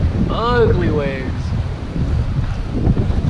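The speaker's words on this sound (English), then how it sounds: "the waves are coming in ugly though" Ocean waves surge against a rocky jetty under steady wind, with gusty rumbling wind noise on the microphone throughout and a brief voice early on.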